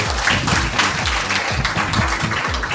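Loud clapping from an audience at a women's safety and employment event, dense and sustained, with rhythmic low thumps pulsing beneath the applause.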